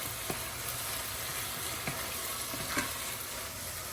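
White wine deglazes a pan of pancetta and leek, giving a loud, steady sizzle and hiss close by with occasional stirring scrapes and no talking.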